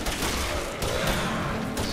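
Prisma Gorgon rapid-fire gun in the video game Warframe, a loud continuous burst of shots with dense rattling and booming impacts throughout.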